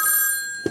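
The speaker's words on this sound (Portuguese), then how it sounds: "Isso faz soar o sino mecânico dessa coisa" A mechanical bell inside an old telephone rings steadily and close, a bright metallic jangle that fades out before a short knock at the end.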